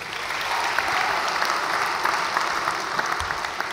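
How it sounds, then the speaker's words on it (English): Church audience applauding after a reading, a dense steady clapping that holds at a fairly loud level for a few seconds with no talking. "Y'all give it up for Olivia"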